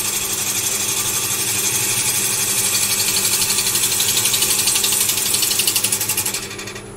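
Wood lathe turning African blackwood with a hand-held gouge: a steady, dense mechanical whir with fine rhythmic chatter, continuous and close, fading out near the end.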